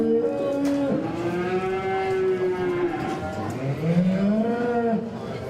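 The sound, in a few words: cow mooing at county fair beef show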